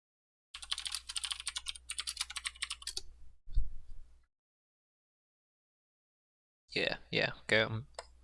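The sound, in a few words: typing on a computer keyboard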